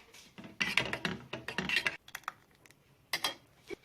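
A spoon stirs rice and homemade yogurt soup in a pot on the stove, giving a run of quick, light scraping clinks against the pot, then a few scattered taps.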